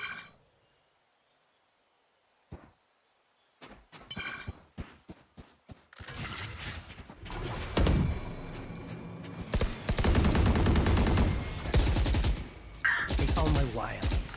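Gunfire and a flashbang in a collegiate esports grand finals match: scattered sharp shots give way to dense, sustained bursts of rapid fire and explosions, loud and continuous toward the end.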